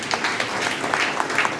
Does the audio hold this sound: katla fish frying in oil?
no